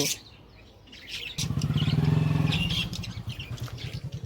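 Birds kept in a cage chirp in a home, short repeated calls rising over a steady mid-level background; brief bird tweets stand out near the start and again toward the end.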